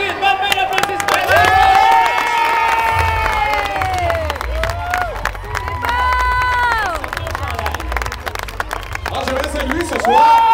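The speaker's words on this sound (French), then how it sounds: "On les applaudit. Bonne main d'applaudissements." A crowd at a greased pig chase cheers and shouts loudly, with excited voices rising and falling over scattered clapping and general hubbub.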